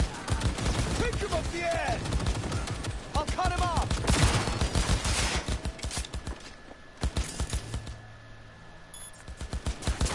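Rapid gunfire from shotguns and assault rifles in the video game Cyberpunk 2077, with dense bursts of sharp shots and clattering impacts that thin out toward the end, and a voice speaking over them.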